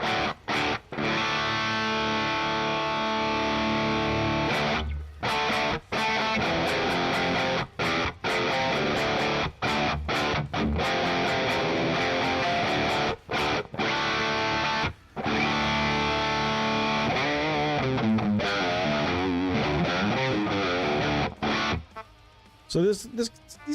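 An electric guitar run through a Wizard amp sim plugin plays a modern rock and pop punk tone. Loud, distorted chords ring steadily, broken by a few short stops, with no talking over them.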